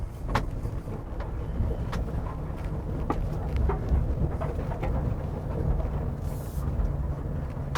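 A GMC Hummer EV climbs a steep off-road incline of about 28 degrees, a low steady rumble of wind and movement with scattered clicks and knocks and a faint high whine near the end, with no talk.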